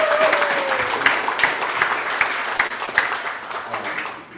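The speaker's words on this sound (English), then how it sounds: "clap it up for Homefield" A live panel audience claps for an apparel company, a moderate burst of applause with distinct individual claps standing out, tapering off toward the end; a voice briefly speaks at the start.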